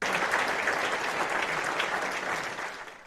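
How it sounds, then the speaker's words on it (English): Hands applauding at a Duquesne University groundbreaking ceremony, a dense, even wash of clapping from a crowd that holds steady for a few seconds, then cuts off. "or hands joining in applause."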